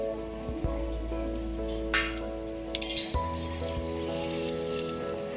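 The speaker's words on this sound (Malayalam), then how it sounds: "ആദ്യം എണ്ണ ചൂടായോന്നറിയാൻ 1 കഷ്ണം ഏത്തക്കായ നമുക്ക് ഇതിലേക്ക് ഇട്ട് കൊടുക്കാം." A slice of raw plantain dropped into hot oil for banana chips, giving a steady, close sizzle with fine bubbling crackle that rises slightly partway through.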